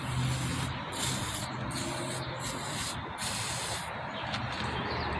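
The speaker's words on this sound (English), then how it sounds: "just spray these with some WD-40" WD-40 sprays onto the rear brakes of a Nissan Quest minivan in a steady hiss, broken by several short pauses between bursts, close and fairly loud.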